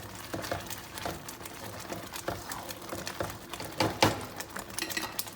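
A spoon stirs curry powder through black chickpea curry in a pan, making soft irregular scraping and tapping sounds, fairly quiet, with a few sharper knocks against the pan and no talking.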